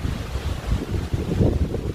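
Strong outdoor wind buffets the microphone in a steady, rumbling roar on a windy summer day, loud and continuous with no voices.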